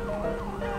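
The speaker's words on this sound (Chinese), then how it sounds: "警车都来了啦" A police car siren wails in GTA 5 with a wavering electronic tone over game noise and road traffic, fairly faint and continuous with no talking.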